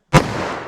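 A single loud .44 Magnum gunshot from a Buffalo Bore wadcutter load fired into a wood block, a sharp close crack followed by a long ringing decay, with no talking.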